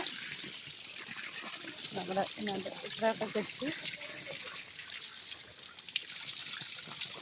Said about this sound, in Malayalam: വെള്ളം തുറന്ന് വിട്ടിട്ടുണ്ട്.